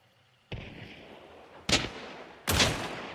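An Officer Carbine fires in Hunt: Showdown. Three sharp, loud gunshots ring out about a second apart, each leaving a short echoing decay against a quiet background.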